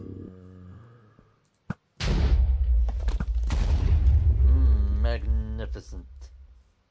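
An explosive projectile from a bow-like weapon in a Minecraft RPG mod bursts with a heavy booming blast that rumbles and decays over several seconds, preceded by a short sharp crack, with an excited voice talking over it.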